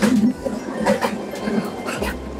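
A local passenger train running in Bangladesh, from Parbatipur to Ramna Bazar, makes a close rumble with rhythmic rattling and clattering over a few seconds, and no one speaks.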